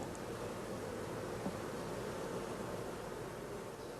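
Honey bees swarming around a nucleus hive with one raised edge, a dense, continuous close buzz that holds steady throughout, alone with no voices.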